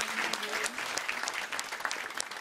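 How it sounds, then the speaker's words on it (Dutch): An audience at a Liberation Day event in the Netherlands bursts into applause, a dense patter of clapping heard close, with a voice speaking over it briefly. "Applaus voor Melissa Lopez"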